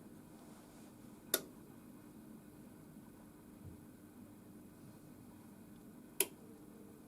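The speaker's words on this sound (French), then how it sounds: "Ce sont les relais de protection des haut-parleurs. Donc on a un démarrage en 3 étapes." Audio amplifier speaker protection relays click during a three-step startup cycle: two sharp, isolated clicks several seconds apart, with a faint soft tick between them over a quiet hum.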